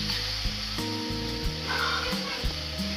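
Vegetables for acar sizzle steadily as they are stir-fried in a pan, with loud hissing frying noise and a few sharp clinks of a utensil scraping and stirring.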